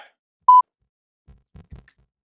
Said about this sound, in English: Give a little beep.